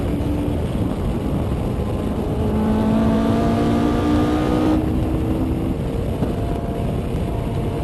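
A Noble M600 or Atom V8 car lapping the Nurburgring, its engine droning loud and constant from on board with rising gear tones, wind and road roar filling the whole stretch.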